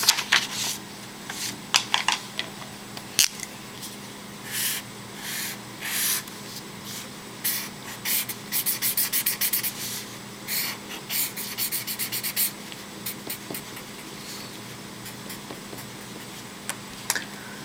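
A pen drawing a Fischer projection on paper gives bursts of scratchy strokes, close and fairly quiet, separated by short pauses over a faint steady hum.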